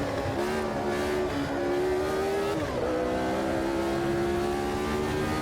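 Formula One race cars, including a Ferrari, roaring through a race in the Automobilista 2 racing game: a loud continuous engine whine with steady pitch that dips and climbs again midway, no talking.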